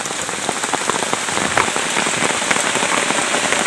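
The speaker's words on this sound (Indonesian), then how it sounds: "Hujan deras." Heavy rain pours steadily onto a plastic shelter at a forest campsite, a dense, unbroken hiss with scattered patters of drops. It stays loud and close throughout, with no voices.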